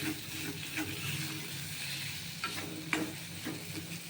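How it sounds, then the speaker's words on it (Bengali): Soybean chop filling stirred in a pan, a soft steady sizzle with gentle repeated scrapes of a spoon, quiet and close, with no talking. "এখন দুই তিন মিনিট নাড়াচাড়া করব"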